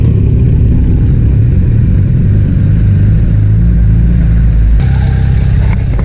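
A loud car engine revs hard and accelerates up an on-ramp on the way to a car meet, a heavy low roar climbing in pitch, then a sharp gear change before the drone continues, captured close from inside.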